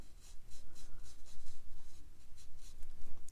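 Watercolor brush strokes on paper while painting a popsicle stick, a soft repeated brushing and dabbing rhythm of quick strokes, close and quiet, with no talking.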